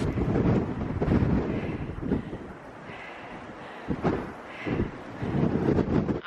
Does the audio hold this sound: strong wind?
yes